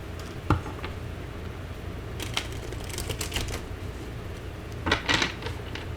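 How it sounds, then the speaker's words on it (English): A tarot deck is shuffled close up: one sharp tap, then two short bursts of crisp papery riffling separated by quieter handling, with no one speaking. "Okay, one more shuffle."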